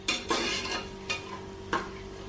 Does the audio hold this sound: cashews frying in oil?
yes